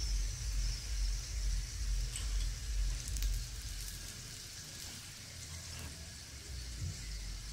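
A paneer cheese paratha fries in oil on a pan, giving a steady close hissing sizzle with a low background hum that eases slightly partway through, with no talk.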